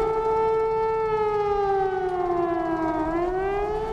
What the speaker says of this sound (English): Air raid sirens sounded in the city earlier today.